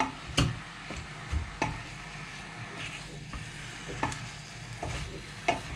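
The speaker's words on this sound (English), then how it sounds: "Just brown the meat. That's all, just brown the meat." Meat browning in a pot for Hungarian goulash, a soft continuous sizzle broken by several sharp knocks and scrapes of a spoon stirring at irregular intervals, close and moderately quiet, with no speech.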